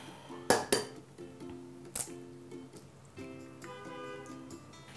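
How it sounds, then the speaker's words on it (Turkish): Egg being stirred into soft cheese in a bowl, with close clinks and scrapes of a utensil against the dish, a few sharp knocks followed by a steady rhythmic mixing. "Yumurtayı da karıştırıyorum peynirle beraber"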